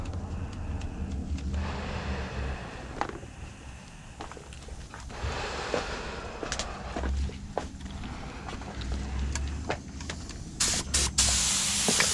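Spray gun laying base coat paint onto a car quarter panel in an autobody spot repair, a steady close hiss in repeated bursts with brief pauses and faint shuffling between passes.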